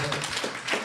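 Audience clapping at a live radio show, a short burst of hand claps from a room full of people, steady and fairly close for under a second.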